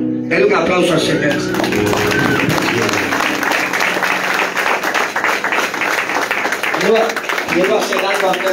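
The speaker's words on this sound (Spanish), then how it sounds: "Denle un aplauso al Señor." A church congregation applauds at an evangelistic service, steady dense clapping filling the room throughout, with voices and music-like tones running underneath.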